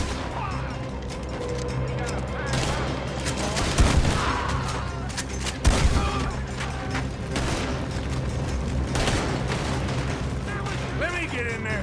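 Gunfire crackles through a shootout in the video game Red Dead Redemption 2, with dense overlapping shots, several louder bangs and a chaotic mechanical clatter under shouting voices that continue throughout.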